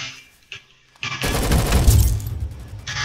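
Gunfire from a gun in the Roblox zombies game Rolling Thunder: after a couple of faint clicks, a burst of rapid shots breaks out close and loud, rattling on for about two seconds before trailing off, with no talking.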